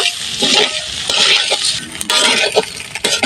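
Rice and lentils for khichuri fry in a pot while being stirred, with a close sizzle broken by repeated scrapes and light clinks of the utensil against the pot.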